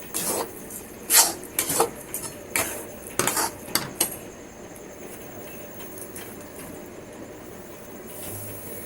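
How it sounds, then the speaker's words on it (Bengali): A chhena, coconut and milk mixture with cardamom powder is stirred in a pan, a spoon clinking and scraping in a quick series of close metallic knocks before the sound fades to a low steady background. "ছানা নারকেল আর দুধের মিশ্রণের সাথে ভালো করে এলাচ গুঁড়োটা মিশিয়ে নিলাম"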